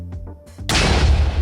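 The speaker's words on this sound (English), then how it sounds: "whoa, that was an explosion I wasn't expecting" Explosion spawning the Ratlantis portal in modded Minecraft, a few soft game tones then a sudden loud boom at under a second that rumbles on in a dense roar, no talk.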